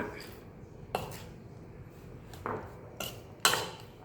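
Chopped cashews and almonds tumble into brownie batter in a bowl, giving a few scattered clinks and taps against the dish, each brief and fairly close, with quiet pauses between them.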